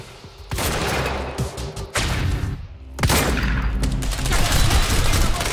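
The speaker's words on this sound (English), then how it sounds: "Long range shotgun." Gunfire from the video game Quantum Break, with loud, sharp blasts in quick bursts separated by short gaps, punchy and close over continuous game noise.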